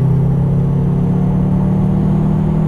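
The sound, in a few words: Subaru car engine accelerating on track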